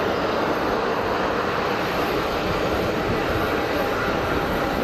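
Finnish Embraer jet taxiing at Geneva Airport, a steady broadband engine rumble and hiss holding level throughout, loud and continuous with no talk.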